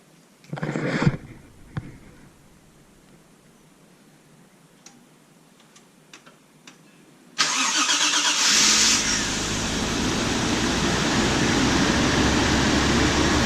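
A car engine with a recently repaired exhaust leak cranks a few times, falls quiet with faint ticks, then catches and roars to life, settling into a loud steady idle.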